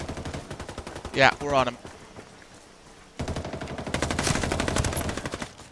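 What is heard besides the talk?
gunfire in the video game Ghost War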